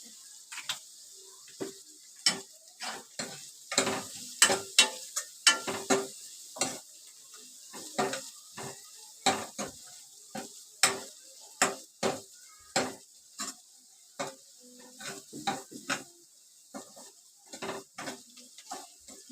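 Asafoetida dropped into hot oil in a pan while making spinach and chana dal aamti, with a steady sizzle under repeated sharp clinks and scrapes of a spoon stirring against the metal pan, close and fairly loud, no talking.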